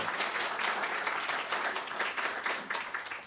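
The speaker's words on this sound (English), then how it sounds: "Let's give her a round of applause, too." A church congregation applauds Imelda Gomez, spiritual director of the Spanish-speaking ministry, with dense, continuous clapping from many people held at an even level throughout.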